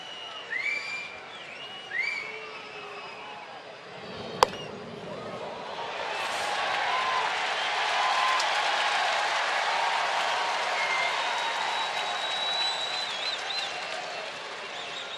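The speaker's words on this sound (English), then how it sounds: "Love the reaction of the crowd when Freddie Gonzalez made his way to the dugout" Baseball stadium crowd in Atlanta, Milwaukee at Atlanta, reacting as manager Freddie Gonzalez walks to the dugout: a distant swell of applause and cheering rises and holds steady, preceded by brief whistles and a single sharp crack.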